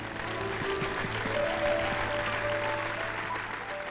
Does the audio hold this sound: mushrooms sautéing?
no